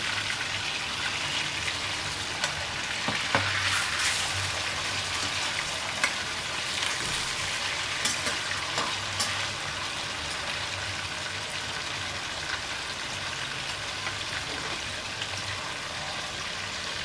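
Fish pieces frying in a pan for fish curry give a steady, dense sizzle of hot oil throughout, close and even, with a few faint clicks and no voices.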